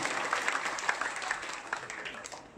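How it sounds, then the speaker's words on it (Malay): Applause from a crowd at a political rally in Papar, steady dense clapping at moderate distance, continuous through the moment without clear breaks. "Ya, tepuk tangan itu."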